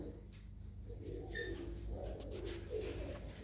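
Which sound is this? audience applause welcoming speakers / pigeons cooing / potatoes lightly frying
pigeons cooing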